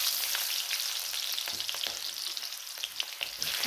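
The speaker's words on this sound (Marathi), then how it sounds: "त्यानंतर आपण यामध्ये हा कांदा घालूयात." Onion goes into a hot pan with roasted cumin and fries with a dense, bright sizzle and crackle, with stirring scrapes, loud and close, with no talk.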